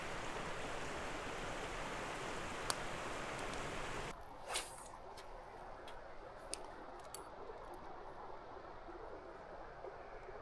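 A river in Quebec rushes with a steady, broad hiss of flowing water that softens partway through, and a few faint clicks and ticks sound over it, with no talking.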